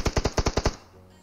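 A burst of rapid gunfire, likely a submachine gun, from the mobile battle royale game PUBG Mobile, about seven sharp loud shots in quick rhythm and then a short fading tail.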